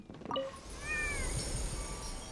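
At a kitty cat shrine in the Genshin Impact video game, a cat lets out a short meow followed by a longer drawn-out one, moderately loud over faint background game ambience.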